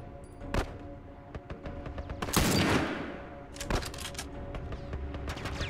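Gunfire in The Last of Us: a loud shot, then a burst of rapid fire and another sharp shot, standing out over steady game ambience with no talking.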